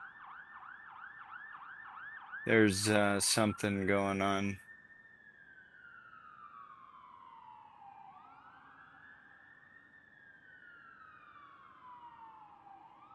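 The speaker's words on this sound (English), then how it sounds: "there's that siren again" An emergency vehicle siren wails outside, rising and falling in long sweeps that carry on after a brief burst of loud talk near the start.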